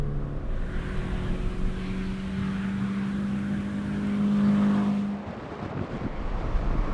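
Scion FR-S with automatic transmission driving on a race track, the engine holding a steady rising drone before dropping off abruptly as the driver lifts, heard from inside the car.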